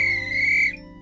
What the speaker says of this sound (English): it's fun to pretend to be a crossing guard, especially when you have a whistle like this